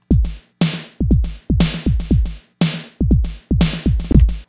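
Electronic drum kit MIDI patch in a Mixbus32c V8 session plays a punchy dance-style beat of booming kicks, snappy snares and clicky hits in a steady pattern, loud and dry, with no voices.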